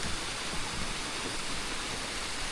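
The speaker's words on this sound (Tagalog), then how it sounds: "Tapos dito ang bagsak ng tubig." Steady, dense rushing of a waterfall in Sorsogon, a continuous broadband roar with no pauses.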